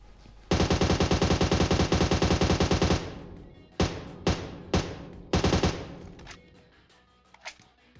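A long, rapid burst of automatic gunfire in the video game PUBG Mobile, then several short separate bursts, ending with a few faint scattered shots.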